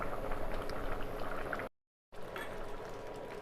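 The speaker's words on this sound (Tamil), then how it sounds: "இப்போ இது எல்லாம் நல்லா கொதிச்சு வரட்டும்." Mutton thalicha gravy with mango bubbles steadily in a pot, a close and soft continuous boil that cuts out briefly to silence before resuming, with no voices.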